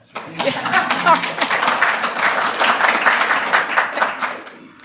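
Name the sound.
audience applause for Gail Miner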